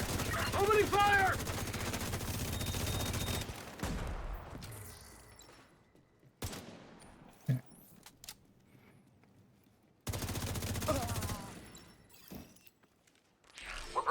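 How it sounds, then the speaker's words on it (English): Video game gunfire during an evening stream, heard as bursts of rapid automatic shots at the start and again later, with quieter gaps and scattered single cracks between them, and voices talking over parts of it. "Opening fire."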